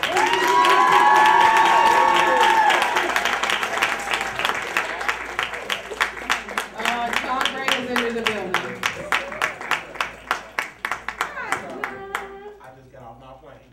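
An audience claps and applauds loudly at a live talk event, the applause first dense, then thinning into distinct separate claps before fading out, with voices and cheering mixed in.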